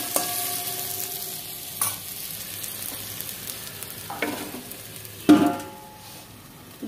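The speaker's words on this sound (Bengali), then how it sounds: "শঙ্কর মাছের তেলটা দিয়ে দিলাম।" Stingray fish oil added to a pan and stirred, a soft steady sizzle with a few scraping spoon strokes and one sharp clatter of utensil on pan, close and without speech.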